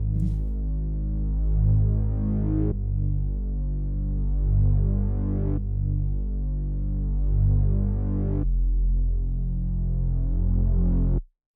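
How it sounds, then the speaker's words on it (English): A deep Growler Moog bass preset from Omnisphere plays sustained root notes for a beat made in FL Studio, with long throbbing low tones changing pitch every few seconds and then cutting off abruptly. "I used the Growler Moog bass from Omnisphere"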